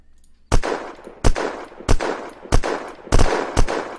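A Nikarov light machine gun fires in the video game Unturned, six loud, sharp single shots at an even, spaced-out rhythm, each followed by a short echoing tail.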